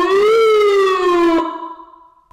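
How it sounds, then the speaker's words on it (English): An armored Rolls Royce Cullinan's siren sounds a single loud, close electronic wail that rises, holds and slides downward, then cuts off abruptly into a fading, lower tone. "there is even a siren light in the rear. It also produces sound."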